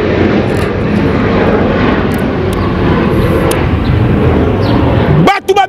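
An airplane engine sound effect in a Congolese song, a loud continuous droning roar that holds steady under a singing voice before cutting off sharply near the end.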